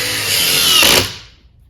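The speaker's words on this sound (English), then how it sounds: "if you really want to drive a bunch of these fasteners, these T25 screws really fast" A Ridgid impact driver drives a T25 screw in one short, loud, close whirring burst that cuts off and fades within under two seconds.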